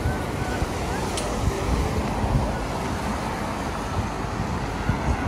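A rough sea and strong wind at the Blackpool seaside make a continuous, loud roar as gusts buffet the microphone over the steady rumble of surf.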